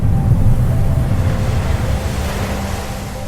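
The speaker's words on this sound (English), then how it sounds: "Sometimes all you see is a cliff on one side and a drop-off into churning, foamy ocean on the other." Churning, foamy ocean surf below a cliff on Molokaʻi, a loud steady roar of waves with rumbling low noise and wind buffeting the microphone, continuous and without voices.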